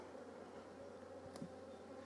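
Honeybees buzz around an opened hive in a steady, low drone, with a faint wingbeat passing close now and then. No one speaks.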